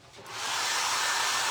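A hair dryer switches on and quickly ramps up to a steady, loud whoosh of blowing air, running close and continuous with no talk over it.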